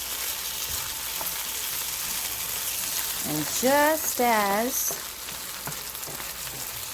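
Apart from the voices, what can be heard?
chicken frying on very high heat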